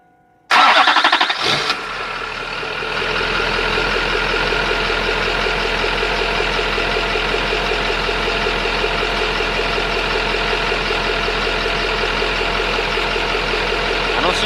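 An LB7 Duramax diesel truck engine cranks and catches after a brief silence with a sudden loud start, then settles into a steady, close, rhythmic diesel idle clatter for the rest of the clip.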